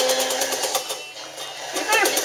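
An Alden manual zigzag sewing machine with a darning foot stitches in rapid, steady mechanical bursts at close range, the rhythm pausing briefly midway before picking up again.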